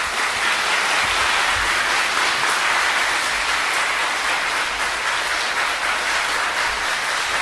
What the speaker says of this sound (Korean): 박수로서 환영하겠습니다.